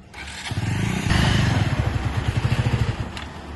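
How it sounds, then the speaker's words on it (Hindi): A Bajaj Avenger 220 cc motorcycle engine idles with a rough, uneven throb that sputters and fades as it stalls, loud and close, with no talk over it. "इसका बाइक ही बंद हो जा रहा है"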